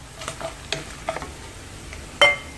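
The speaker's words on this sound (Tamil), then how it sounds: "நல்லா வதக்கிக்கோங்க" Slit chillies sautéing in oil give a soft, close sizzle with scattered scraping strokes of a spoon and one sharp metallic clink near the end; no talking.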